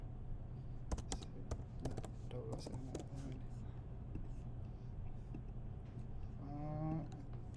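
Typing an email address and password on a MacBook keyboard, soft irregular key taps in quick bursts, close and quiet, with faint background noise and a brief muffled voice late on.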